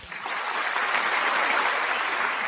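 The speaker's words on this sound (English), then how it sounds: "Hey, but I got some hand claps." Steady applause from a crowd in the video game Government Simulator, dense continuous clapping sustained at an even level throughout.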